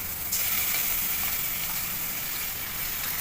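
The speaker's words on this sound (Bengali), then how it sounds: "এবার আদা রসুন বাটাটা দিয়ে দেবো" Ginger-garlic paste sizzling in hot oil with onions in a pan for chicken biryani, a steady, bright frying hiss close by that fills the whole moment.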